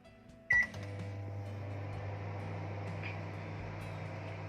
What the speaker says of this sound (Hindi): इसको मैं माइक्रोवेव में 7 मिनट बेक करने जा रही हूँ।